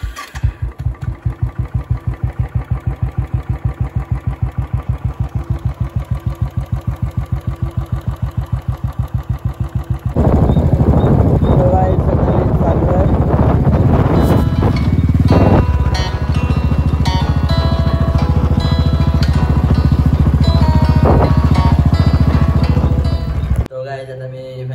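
A Royal Enfield Bullet motorcycle thumps at a loud, close idle with a rapid even beat, then revs up into a heavier, louder engine roar as it pulls away and rides, cutting off abruptly at the end.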